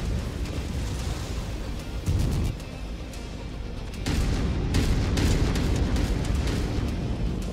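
An enemy Leopard mech firing in modded Mechwarrior 5, with heavy booming blasts and rapid cracking shots over a constant low rumble, loudest in a sustained barrage during the second half.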